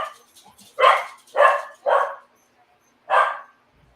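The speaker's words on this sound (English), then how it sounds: "I can't think of these damn dogs" Dogs barking at home, four loud sharp barks in quick succession with a short pause before the last, preceded by a few faint whimpers, and no talk over them.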